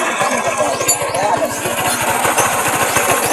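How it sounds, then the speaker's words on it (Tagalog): A Barako 2 motorcycle engine idles steadily right after a regulator replacement, its rapid, even chugging close and loud throughout, with no misfire. "Ang ganda na lang andar mga kaibigan."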